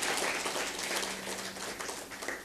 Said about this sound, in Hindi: मैं आप सबसे अनुरोध करती हूँ कि जोरदार तालियों के साथ ऐसे विशिष्ट व्यक्तित्व का